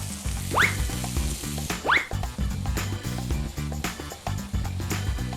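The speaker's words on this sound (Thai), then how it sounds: "ทีนี้เราก็ใส่เส้นลงไปผัดนะครับ" Glass noodles stir-fried with canned fish in a hot pan give a steady close sizzle, broken by scraping and tossing strokes of a spatula, with a rhythmic clatter running underneath.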